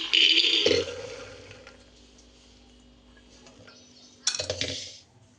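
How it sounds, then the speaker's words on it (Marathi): Water is poured into a pressure cooker holding black chickpeas in two short splashing bursts, one at the start and one near the end, with faint metallic clinks and a quiet lull between them. "पाणी टाकून घेते आता जरा"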